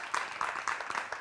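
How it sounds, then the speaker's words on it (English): Short burst of hand clapping from a few people, quick uneven claps close by, lasting only a moment. "she deserves a round of applause."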